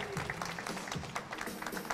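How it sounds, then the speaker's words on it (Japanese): Faint applause from spectators at a 10m air pistol mixed team shooting championship, a soft, steady patter of many hands clapping at a distance for a brief moment. "今一度大きな拍手を送りましょう"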